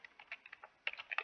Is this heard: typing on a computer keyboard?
yes